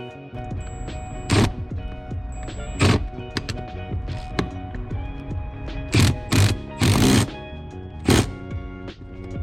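An offset wrench works the seat riser bolts in a Lexus GX470, making loud, close metallic ratcheting clicks in irregular bursts over a steady low background hum, with no voices.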